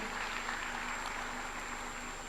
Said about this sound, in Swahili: Wonderful. Makofi.